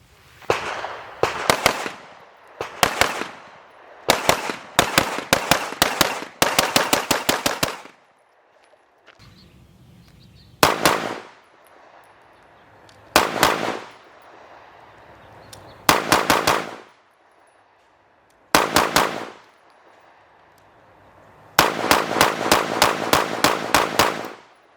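Rapid pistol fire from an Atlas Erebus 2011, with loud sharp shots in quick strings and clusters broken by short pauses, ending in a fast run of shots.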